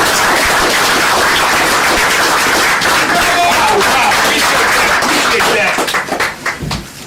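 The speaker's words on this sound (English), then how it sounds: "everybody stand up and give a well round of applause for my man" Loud, dense audience applause as a crowd stands to honor a man, a continuous roar of clapping and crowd noise that holds steady before thinning out in the last second.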